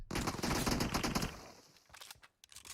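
Rapid automatic gunfire in the mobile video game PUBG Metro Royale, a loud sustained burst lasting over a second, then fading into scattered single shots and softer footstep-like clatter.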